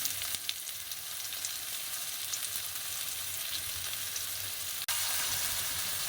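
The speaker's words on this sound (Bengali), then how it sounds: "মশলাটা একটু কষিয়ে নিয়েছি" Bay leaves, chilli powder and turmeric sautéing in a pan, giving a steady close sizzle and frying crackle with a faint low hum underneath and one brief dropout near the end.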